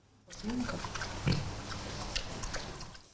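A piglet kept at a frontline military position gives soft, low grunts close by, mixed with snuffling and chewing-like noises, while a voice talks over it.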